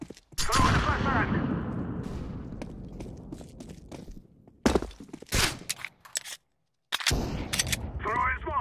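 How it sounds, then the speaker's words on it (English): A flashbang grenade thrown during a Counter-Strike match on de_cache: loud sharp bursts and gunfire-like cracks mixed with footsteps, a sudden silent gap near the end, then more clatter. "Throwing a flashbang."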